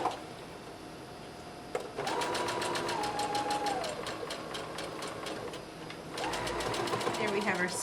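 A sewing machine stitches a seam on a pillowcase dress in rapid mechanical bursts, with a pause before the motor starts again, close up as a person talks over it.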